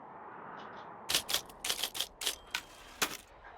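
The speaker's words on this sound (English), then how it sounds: "typewriter" Typewriter keys clack in the video game Firewatch, a burst of crisp strikes in uneven rhythm over a faint quiet background, close and clear with no talk.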